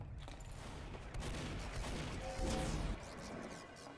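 Sentry guns in Team Fortress 2 Mann vs. Machine mode fire rapid continuous bursts of gunfire mixed with crashing impacts and explosions. The burst is loud and dense and rises toward the middle.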